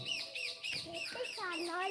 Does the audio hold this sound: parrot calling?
yes